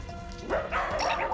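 Three excited dachshunds in a pack bark and yip in quick, overlapping bursts, fairly close and loud, with a whimpering edge.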